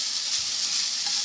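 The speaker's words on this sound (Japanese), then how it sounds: "では反対側も焼いていきます。" Vegetables and noodles for summer-vegetable yakisoba fry on a hot griddle, giving a steady, close, continuous sizzle throughout with no talking.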